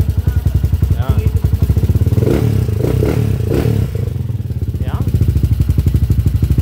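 A TMX125 Alpha motorcycle converted to 210cc with head work idles loudly and close, its steady rapid exhaust pulses carrying a light mechanical ticking, with a brief blip of throttle in the middle and a short spoken word.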